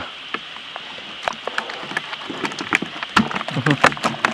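Rain falls on a fishing campsite with a steady patter of drops, irregular taps and splashes growing denser toward the end, while voices talk over it.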